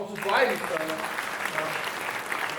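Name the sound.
church congregation applauding the staff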